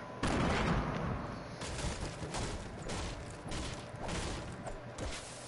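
Gunfire rattles in the video game Fortnite as a dense, continuous barrage of shots at moderate loudness, without pauses, lasting the whole stretch.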